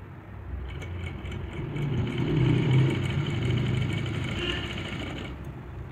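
An electric sewing machine stitches a lehenga blouse, its quiet motor running in a steady, continuous whir that swells slightly midway and then stops abruptly.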